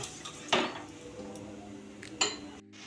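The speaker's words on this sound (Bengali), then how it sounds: "এখন গ্যাসটাকে আমি হাইতে রেখে অনবরত নেড়ে চেড়ে চিনিটাকে মেল্ট করে নেব" A utensil scrapes and clinks against a pan while sugar is stirred to melt over a high gas flame, with two sharp metallic knocks amid quieter stirring.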